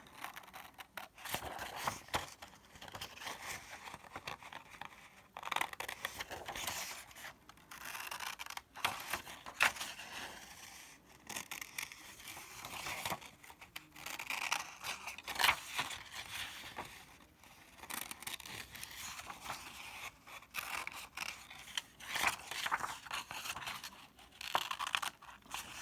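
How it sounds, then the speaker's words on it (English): Small scissors snip through paper as shapes are cut out for a snowman landscape art project, a quiet series of irregular crisp snips and rustles, close and faint, with no talking. "I'm working with little scissors here."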